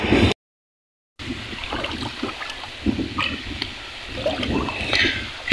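Water trickles and gurgles steadily into a pipe, a soft flowing wash with small splashes, fairly close, after a brief moment of silence at the start.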